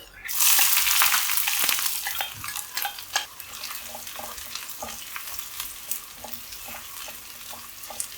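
Shallots, fenugreek, three dried chillies and a pinch of asafoetida frying in hot oil crackle loudly at first, then settle into a steady sizzle with repeated clicks and scrapes of stirring, no talking.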